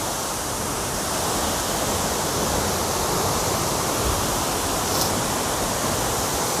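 Steady, dense roar of the Manpilavu waterfall in Kerala during the monsoon, a constant broadband rush of falling water heard close and loud throughout, with no voices.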